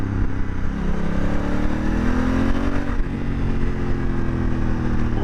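A Honda Africa Twin motorcycle engine revs and gargles through its exhaust, loud and close, with pitch rising and dipping over a steady throaty rumble.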